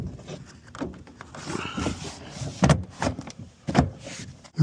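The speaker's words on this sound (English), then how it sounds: "Now we get our door panel back on." Plastic interior door panel being pressed and clipped back onto the door of a 2005 Ram 2500 truck, a few sharp knocks and snaps amid rustling handling noise, fairly close.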